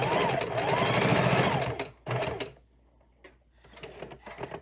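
Sewing machine stitching lace onto a small paper junk journal, running steadily for nearly two seconds, stopping, then a short burst before falling quiet with faint handling noises.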